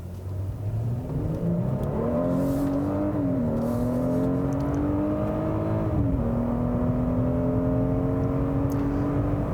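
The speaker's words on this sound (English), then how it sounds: "Once you get over the initial lag of the engine at, you know, when you first tip into the throttle, it just kind of gives you that nice solid rush of power." A 2017 Genesis G90 3.3T sedan accelerating, its engine note climbing smoothly through the gears with a brief dip at each shift, heard from inside as a steady, moderately loud rising hum.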